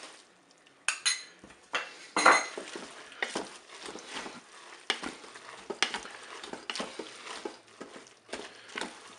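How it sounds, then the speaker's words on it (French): A spoon scrapes and clinks against a Cookeo multicooker's bowl as crème fraîche is stirred into a spaghetti and knacki sausage tomato mixture, with irregular close knocks and soft scraping strokes, no talking. "je vais ajouter ma crème fraîche et je vais mélanger"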